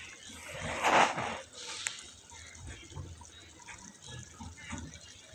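Water in a pot of bhuna khichdi coming to a boil on a stove, giving a quiet, uneven bubbling and gurgling with a brief louder burst near the start and no talking.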